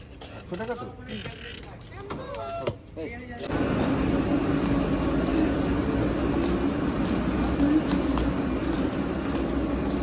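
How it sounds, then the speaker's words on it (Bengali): A moving train carries passengers on an early-morning trip toward Digha, its steady loud rumble and clatter filling the carriage after a few seconds of people talking. "সকাল সকাল ট্রেন হলে মনে হয় যে কত ফাঁকা যাবে, ভীষণ ভিড় হয়"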